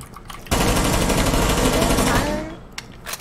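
Rapid sustained gunfire from the video game Rainbow Six, loud and dense bursts lasting about two seconds before tapering off, followed by a couple of faint isolated shots.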